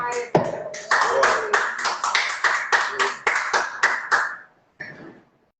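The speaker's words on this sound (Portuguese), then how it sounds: "Uma salva de palmas Jesus Cristo." A church congregation claps in steady unison for Jesus Christ, a quick run of about a dozen sharp, even hand claps that stop briefly before one last short burst. The clapping is loud and close, with no talk over it.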